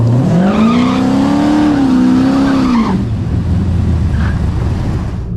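A V8-swapped Datsun 280ZX at a drag strip, its engine loud and close with a rising, wavering revving tone for about three seconds before easing down to a steady rumble.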